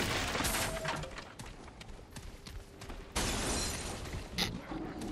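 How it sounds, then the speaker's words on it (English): Glass breaks in the video game Remnant from the Ashes amid dense, noisy combat clatter, with a sudden loud crash and shattering burst partway through and a bright smash near the end. "Somebody just break through some glass."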